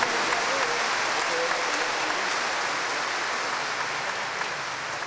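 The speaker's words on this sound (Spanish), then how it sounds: "A ver, católico flojo, ¿dónde está el aplauso?" Loud, dense applause from a church congregation at a Mass of prayer for the sick, steady and sustained throughout with a few voices mixed into the crowd.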